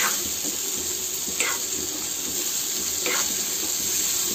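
Okra (bhindi) frying in oil in a pan: a steady close hiss and sizzle runs throughout, broken by two brief stirring scrapes, with no talking.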